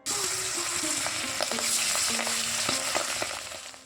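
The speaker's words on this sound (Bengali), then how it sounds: "তার জন্য মাছগুলো ভাজছি" Fish fries in hot oil with a steady, busy sizzle and scattered pops and crackles, close by and continuous.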